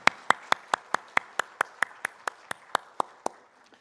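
A Sunday joint worship congregation claps in steady unison to thank the prayer team: about fifteen crisp, evenly spaced claps in a brisk rhythm, fairly close, with no talking.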